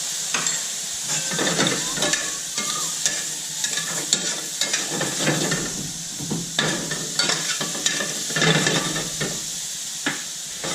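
Shrimp fries in a hot pan with lemon squeezed over, giving a loud continuous sizzle and hiss with stirring noises close up and no talk.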